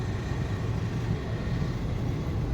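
Low, continuous rumble of the Sri Jagannath Express rolling from Shalimar toward Puri, steady and close with a soft rattle, no voices.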